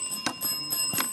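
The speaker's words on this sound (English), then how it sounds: "So that is the bell signifying the end of the round and the end of today's match." A bell on a junior school quiz show rings to signal the end of the round, giving a few quick bright ringing strikes in a short burst.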